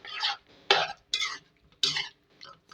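Chicken and spices being stir-fried in a pan for a home-style chicken curry: a few separate, close scraping and stirring strokes with short pauses between them, no talk.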